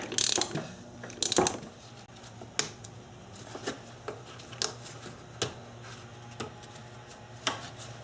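Subaru engine pulleys being turned by hand with the timing belt fitted, giving a series of sharp ratcheting clicks and clacks at irregular intervals, close and distinct over a quiet background.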